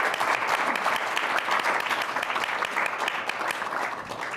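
Audience applause at a talk on the geopolitics of the Strait of Hormuz, dense sustained clapping from a large crowd filling the room, steady and loud throughout.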